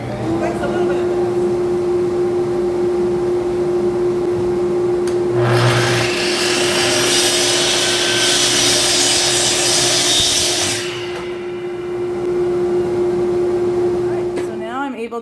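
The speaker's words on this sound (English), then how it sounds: "we have a dust collection system, so I'm gonna turn that on" A workshop dust collection system runs with a steady whine and a constant low tone; partway through, a loud broadband roar of suction surges for several seconds and then drops back to the continuous drone.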